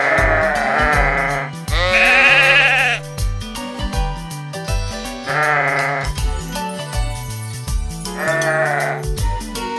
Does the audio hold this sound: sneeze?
no